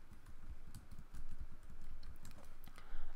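Rapid, uneven keystrokes tap out an SSH password on a computer keyboard, close and fairly quiet, with short bursts and brief pauses over a low background hum.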